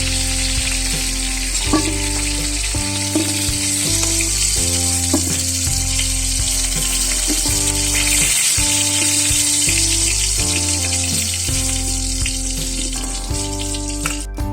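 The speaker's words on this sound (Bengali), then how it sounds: "পেঁয়াজগুলো ভাজা হয়ে গেছে, আমি তুলে নিচ্ছি।" Steady, close sizzling of onions frying in oil throughout, with a faint tonal hum underneath and no voices.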